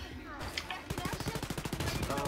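Rapid automatic gunfire from the video game Wolfenstein: Youngblood, a fast run of loud, evenly spaced shots after a short gap, with a few scattered single reports at the start.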